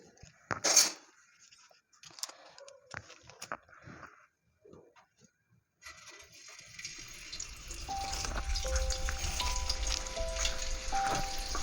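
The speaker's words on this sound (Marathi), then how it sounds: "तवा गरम झाल्यानंतर त्याचबरोबर या ठिकाणी थोडंसं अमूल बटर वापरणार आहे" Amul butter hits a hot tava, and a sizzle swells in after a few sparse kitchen clicks and taps, growing louder and steadier through the second half, with faint tonal tones sounding over it.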